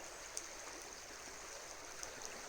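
A river flows steadily beside a campsite on a quiet evening, its continuous rushing wash filling the space with a broad, even hiss and no talking over it.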